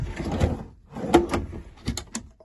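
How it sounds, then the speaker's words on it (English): A soft-close drawer in a 2014 Peugeot Solway Spirit camper van slides and settles with a muffled sliding rumble and a soft closing thud, close and fairly quiet. "Soft close drawer on your camper van."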